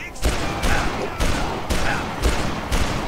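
Gunfire in the zombie game Dead Island, a run of loud, evenly spaced shots about every half second, each with a sharp crack and a short booming tail, with faint voices underneath.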